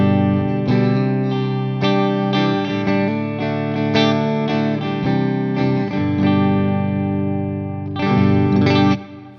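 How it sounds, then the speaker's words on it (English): A Telecaster played on its middle pickup position through a Uraltone Jr kit amp and 4x12 cabinet rings out in strummed chords and sustained notes, with a brief pause and a final flourish near the end. "I'm playing my telly, middle pickup position,"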